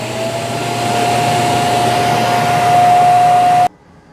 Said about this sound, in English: Now the Roomba is going to self-empty.